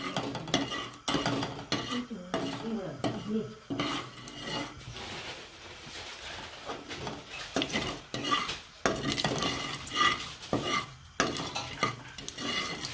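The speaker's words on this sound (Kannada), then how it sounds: "ಸಾಸಿವೆ ಚಿಟ್ಕೊಡ್ತಾ ಇದೆ" Mustard seeds and urad dal spluttering in hot oil for tempering, a busy sizzle broken by frequent sharp pops, clinks and scrapes of a spoon against the pan, with no talking.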